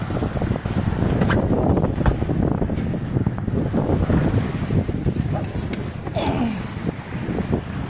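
Gusting wind buffets a sailboat at sea, roaring and rumbling against the microphone in uneven surges, with faint water and rigging sounds underneath.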